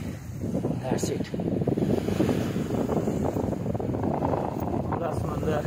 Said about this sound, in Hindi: आपको करीब जाके दिखाता हूँ, ये खुला समंदर